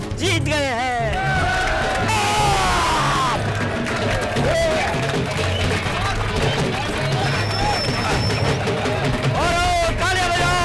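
A loud, dense crowd cheers, whoops and yells in celebration of an election victory announced after the vote count, with energetic shouting and music throughout.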